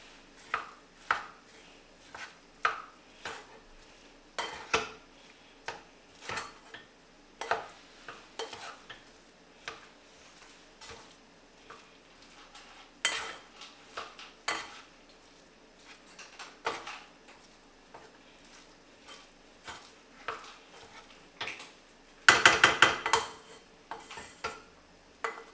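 Spoon stirring and scraping food in a pot, with irregular clinks and knocks against the metal repeating throughout, quiet and close, ending in a louder burst of clattering.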